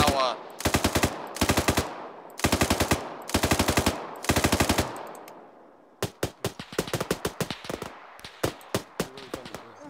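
Arma 3 gunfire arrives in rapid automatic bursts: several long sustained volleys first, then a quicker run of separate sharp shots, loud and close with no talk.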